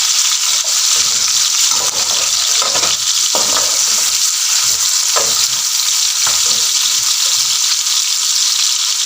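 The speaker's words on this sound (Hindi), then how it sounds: "अब इस ऑयल में जो पहले मैंने आपको बीफ बताया है वो डाल के उसको पहले फ्राई करना है आपने।" Beef pieces sizzle loudly in hot oil over high heat, a dense, steady frying hiss broken by occasional stirring scrapes, close and continuous with no voices.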